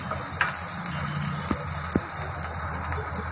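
Butter melts into tawa pulao on a hot griddle with a steady, even sizzle and faint crackle, joined by a few soft clinks of a spoon against the pan, and no talking.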